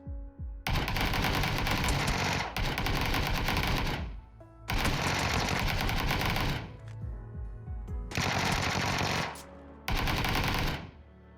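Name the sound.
gunfire in a gunfight, from the video game PUBG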